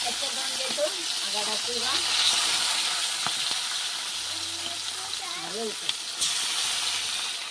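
A pan sizzles quietly with a soft steady hiss during cooking, partly covered by a voice speaking in the background and by a few light clinks.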